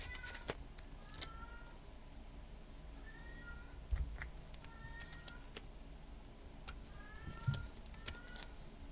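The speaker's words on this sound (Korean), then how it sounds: "오늘도 역시나 울어대는 고양이" A cat cries with several faint, drawn-out meows spread out through a quiet room, interrupted by small scattered knocks and rustles.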